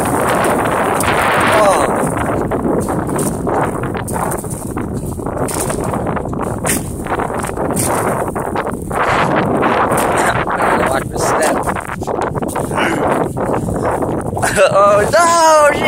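Strong wind gusts across the microphone on a walk along the Bowstring River, a loud rumbling roar that rises and falls throughout, with brief voices in the background.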